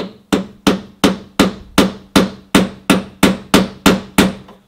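A heavy 4-pound hammer strikes car door metal in about a dozen sharp, loud, evenly spaced blows, each ringing briefly before the next, with no talk.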